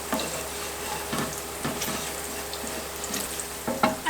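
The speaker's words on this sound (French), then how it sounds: "quand vous voyez que l'ail commence à dorer, à devenir un petit peu translucide et commence à dorer sur les côtés" Garlic frying in a pan until golden, a steady soft sizzle with a few light stirring clicks and scrapes throughout, close and moderately quiet.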